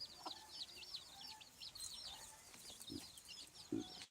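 Chickens cluck softly while chicks peep in quick, repeated high chirps throughout, fairly quiet and a little distant, with no talking.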